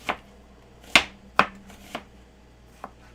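A knife slicing an onion thin into half rings on a cutting board, four or five sharp, separated cuts at an uneven pace, close and clear with no talk.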